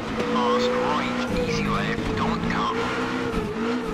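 A rally car in the video game Richard Burns Rally drives along with a steady engine drone and shifting pitch, while someone talks over it throughout.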